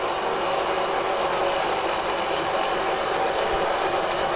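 An electric motor wired to a meter runs steadily on a test bench, giving a loud, continuous hum and whine that holds unchanged throughout with no talk.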